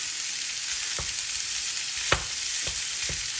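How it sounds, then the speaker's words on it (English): A pound of ground beef cooking in a pan with softened vegetables gives a steady, close sizzle throughout, punctuated by a few sharp scraping or tapping clicks from stirring. "go ahead and add your 1 pound of ground beef"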